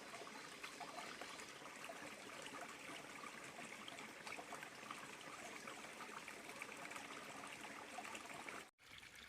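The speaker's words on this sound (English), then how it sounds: "we came upon this little stream coming out of the side of the mountain" A small mountain stream running out of a hillside, giving a continuous close babble and trickle of water with no voices, ending with a brief dropout near the end.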